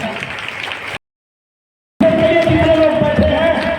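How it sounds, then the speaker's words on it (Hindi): An audience in a large hall applauds loudly, a dense wash of clapping that breaks off briefly to silence and then resumes with a voice speaking over it. "सम्मान पूर्वक जोरदार तालियों से सबका अभिनंदन, स्वागत इस शानदार हाल में।"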